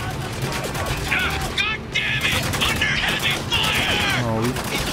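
Rapid automatic gunfire in Spec Ops: The Line crackles loudly in repeated bursts against soldiers, mixed with game effects and voices talking over the action.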